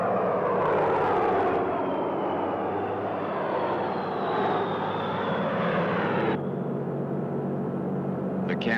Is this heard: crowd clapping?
no